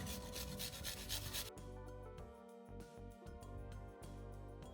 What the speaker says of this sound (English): I got a grater. I'm just gonna grate my garlic.